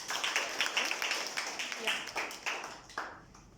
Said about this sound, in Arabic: عافيه صفقوا له